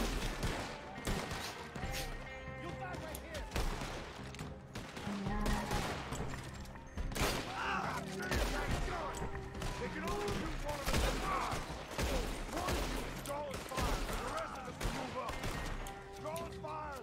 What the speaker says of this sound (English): Stay behind and shoot the targets coming towards us.